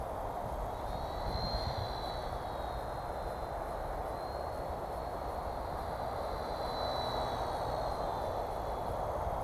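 A WLtoys V930 Power Star X2 brushless flybarless RC helicopter hovers outdoors in wind, giving a steady whine over a constant windy rush that stays even throughout.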